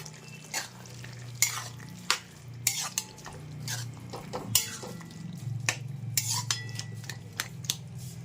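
Prawns go into a bottle gourd curry and get stirred in the pan: repeated clanks and scrapes of a metal spoon over a soft simmering sizzle, close and irregular.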